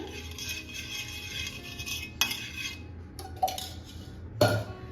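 A spoon spreading ghee over a tawa griddle while cooking a sweet potato fasting dish gives soft scraping and a few sharp metallic clinks, with quiet rubbing between them and no talk.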